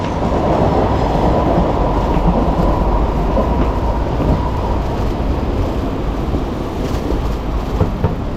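An MRT train in Singapore rumbles past nearby, a loud steady roar of wheels and carriages with faint clicks that fills the whole stretch, with no talking.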